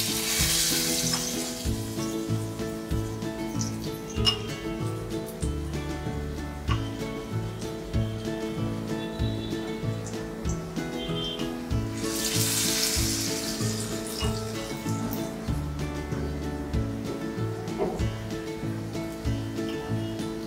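Surmai fish kebabs coated in thin egg batter shallow-fry in hot oil over a low flame, a steady sizzle that swells in bursts at the start and midway, running beneath rhythmic background music.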